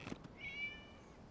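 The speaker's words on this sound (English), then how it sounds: "Oh, what's that sound? It was just a cat." A cat meows once in a video game, a single short, clear, faint mew after a couple of soft taps, with no talking.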